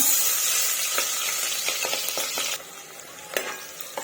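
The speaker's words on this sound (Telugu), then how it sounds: "ఉల్లిగడ్డలు బ్రౌన్ కలర్ వచ్చేంత వరకు వేయించుకోవాలి." Onions frying in a hot pan for mutton curry, a steady bright sizzle with a few scraping stirs and spoon taps on the pan, close and loud, easing off partway through.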